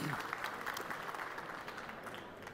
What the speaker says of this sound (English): Let's give a big applause, ladies and gentlemen